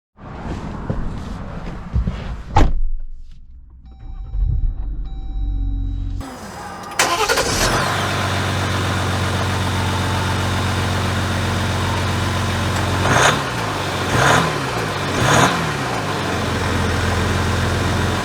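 A 2023 Jeep Wrangler Rubicon's EcoDiesel engine cranks briefly and fires up with a loud surge, then settles into a steady, close diesel idle with a few brief revs blipping near the end.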